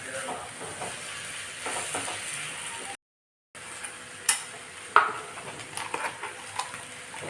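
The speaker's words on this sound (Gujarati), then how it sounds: "બટેટા નાખી અને સરસ મિક્સ કરી દઈએ." Potatoes are stirred into a sizzling pan, with steady frying crackle and a few sharp metal clinks of the spoon against the pan, briefly interrupted by a gap.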